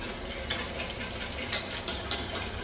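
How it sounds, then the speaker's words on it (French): A whisk beats a sauce for veal blanquette with soft, quick metallic taps and swishes against the pan, close by and fairly quiet. "sans cesser de fouetter"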